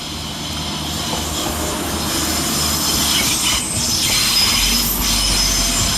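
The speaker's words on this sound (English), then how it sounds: "Whilst departing at the same time is 319010, working the 1055 Avanti West Coast service to London Euston via Crewe." A Class 319 electric multiple unit pulls out of Manchester Piccadilly station with loud, sustained wheel squeal and steady rail rumble, rising slightly as the train moves away.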